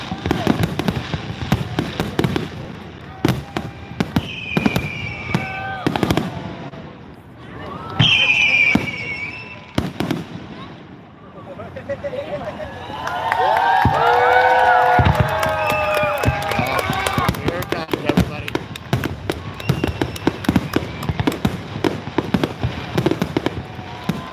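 Fireworks burst at the Milan Fair, with repeated loud bangs and crackling explosions, some whistling rockets, and a crowd cheering and talking throughout.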